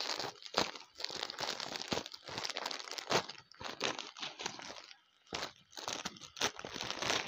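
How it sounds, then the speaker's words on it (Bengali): A parcel package is torn open for unboxing, giving close, continuous crinkling and ripping of plastic and paper in repeated bursts with a short pause midway. "আমি এটা ছিঁড়ে ফেলি"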